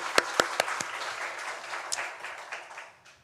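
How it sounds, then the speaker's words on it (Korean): A church congregation bursts into applause during a Sunday worship service. A few sharp, distinct claps lead into a thick patter that thins and fades away by the end. "우리 하나님께 영광의 박수 올려드리겠습니다"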